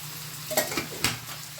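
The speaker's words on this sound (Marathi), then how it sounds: "एकीकडे कोळंबी फ्राय होते" Prawns frying in hot oil, a steady close sizzle broken by a few quick clinks and scrapes of a utensil stirring in the pan.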